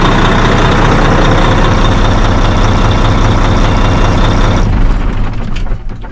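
A truck's International engine runs steadily, a loud, continuous low rumble with a broadband roar that thins out slightly in the final second, and no one talks over it.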